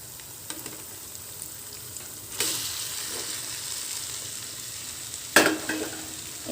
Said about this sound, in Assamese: মছলাখিনি ভাজি লোৱাৰ পিছত তাত দি দিম কলডিলখিনি